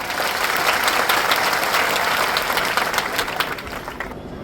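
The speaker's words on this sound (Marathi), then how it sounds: "कृपया या बाबासाहेबांच्या लाल साठीचा टाळ्या वाजा" A large crowd at a political rally honouring Babasaheb Ambedkar claps loudly in sustained, dense applause that thins slightly toward the end.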